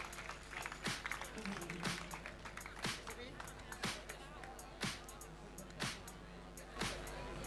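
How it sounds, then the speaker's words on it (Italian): Applause from the crowd at a women's Muay Thai tournament final, scattered claps and cheering in a large hall, heard under an announcer speaking over a loudspeaker. "Fortissimo applauso anche a Maria Teresa Stampi dei 5 elementi di Padova."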